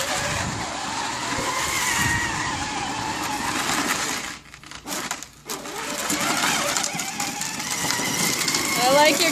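A child drives a new toy ride-on car, its motor giving a continuous whirring drone that drops out briefly midway, with adult voices talking over it.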